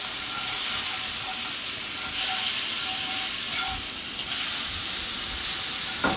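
Butter sizzles and hisses in a hot pan on the stove, a bright continuous fry that swells in brief louder bursts, close and alone.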